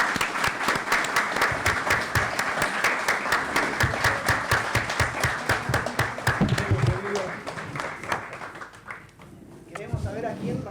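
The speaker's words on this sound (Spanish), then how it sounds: "ahí le damos un fuerte aplauso para que venga adelante" A large audience bursts into loud, sustained applause with dense rapid clapping, fading somewhat near the end, during a talk event about the Malvinas war; voices murmur beneath the clapping.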